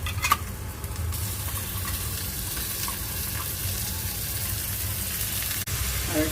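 Onion and dried prawns sauté in a hot pan, giving a steady, close sizzle of frying that holds unbroken throughout with faint stirring scrapes.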